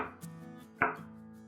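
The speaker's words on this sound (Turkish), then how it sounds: "4 adet patatesimi bu şekilde doğruyorum" A couple of sharp knife chops through potatoes on a cutting board, one faint and one louder, with a low steady hum underneath.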